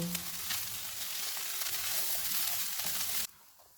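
Crushed cumin, coriander and pomegranate powder roasting in a pan for chicken bread pakora filling, a steady dry sizzle with faint scraping that runs for about three seconds and then cuts off abruptly.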